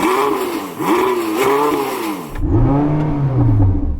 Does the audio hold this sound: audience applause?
no